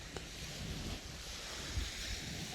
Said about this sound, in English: Oh, the sound of the waves.